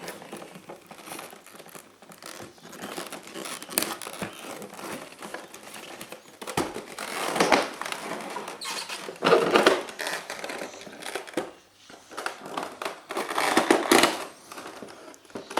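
Tightly packed plastic packaging crinkles and crackles as an Eagle 1:200 Thai Airways A340-600 model airplane is pulled out, close and continuous, with louder crunchy bursts around the middle and near the end.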